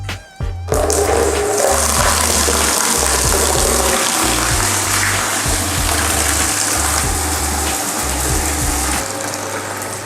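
A conventional electric water pump feeds an open tap, and water gushes out loud and close. A constant rush runs under a low, pulsing mechanical hum from the pump, with no voices.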